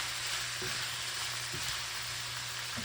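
Onions and shrimp stir-fry in hot oil for an Asian-style noodle dish, a dense, steady, close sizzle with a few soft stirring scrapes and no talk.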